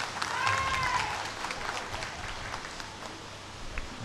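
Applause from cluster presidents and party members at a YSRCP political meeting, a broad, fairly loud wash of clapping that fades slightly over time, with a voice briefly heard in the crowd.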